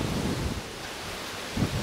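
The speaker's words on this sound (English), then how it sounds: "This wind is awful today." Strong wind blowing outdoors at beehives, loud broadband rushing and buffeting against the microphone with low gusty rumbles throughout, no speech.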